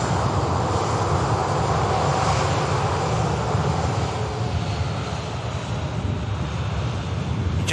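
Jet airliner setting off for Dubai from Manchester Airport, a steady loud engine roar with broad rumble and wind noise holding constant throughout, no voices.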